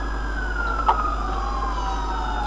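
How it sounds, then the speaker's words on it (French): A steady emergency siren tone wails in the distance during a violent storm in Austin, Texas, holding a long continuous pitch over faint background hum, with no voices. "Vous entendez les sirènes."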